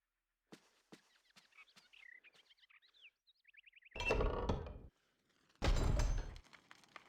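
Ambient birds chirp and trill faintly in a video game scene, with scattered light clicks and two loud heavy bursts, like a door or thud, interrupting midway.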